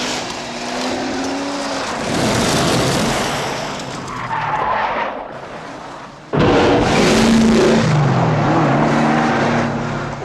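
Car driving at speed with a loud, steady engine roar and road rush, close and continuous, with a sharp shift midway as the engine note jumps.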